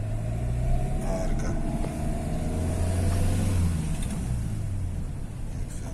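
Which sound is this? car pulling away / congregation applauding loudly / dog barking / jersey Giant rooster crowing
car pulling away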